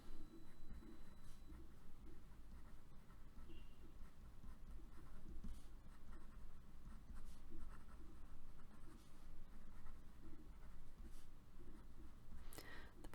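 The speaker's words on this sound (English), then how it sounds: "we could write this out in a sentence" A pen or pencil scratches steadily across paper while a math solution is written out, a quiet continuous scribbling with no talk.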